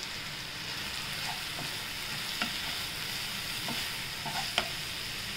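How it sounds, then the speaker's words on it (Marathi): Cauliflower and pea curry being stirred with masala in a hot pan, a steady soft sizzle of frying spices under a few light scraping knocks of the spoon. "आता आपण छान हलवून घेऊया."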